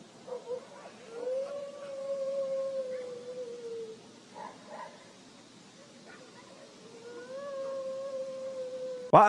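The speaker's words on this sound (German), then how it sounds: "Die Hunde gehen komplett ab." Dogs howl at night in long, wavering cries at a distance, rising and falling in two drawn-out bouts, with a few yips in between.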